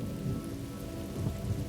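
Monsoon rain pours steadily in a dense, even hiss, with low rumbling swells like distant thunder rising and fading underneath; no voices.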